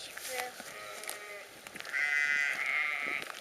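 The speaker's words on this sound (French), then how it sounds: "comme vous entendez les bêlements des moutons" Sheep bleat repeatedly during a transhumance at Les Arcs-sur-Argens, a cluster of nearby calls over outdoor ambience, with a person talking in French over them.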